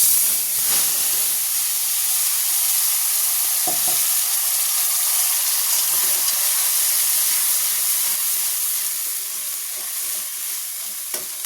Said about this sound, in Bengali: প্রথমে এতে ফোড়ন দেবো, তেজপাতা, শুকনো লঙ্কা আর গোটা গরম মশলা, বাটা মশলা দিয়ে দেবো